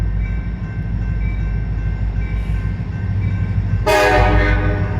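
An empty coal train rolls past near a road crossing in Mount Hope, West Virginia, with a steady loud rumble of wheels and cars, then a sharp, blaring horn blast sounds close by near the end.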